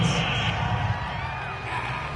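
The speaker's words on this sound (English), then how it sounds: "Well, this crowd does not like that call." A stadium crowd in the Madden 22 football game reacts to a penalty call with a steady, loud roar of jeers and cheers that fills the whole moment, with a commentator's voice faintly mixed in.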